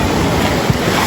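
Loud, steady roar of surf and sea waves at a resort beach, broadband and wash-like with wind noise buffeting the microphone throughout.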